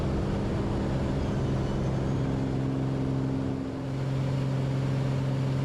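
A light aircraft engine climbs after takeoff on G100UL unleaded fuel, a steady, even drone heard from inside the cabin, moderately loud and unbroken, with no voices.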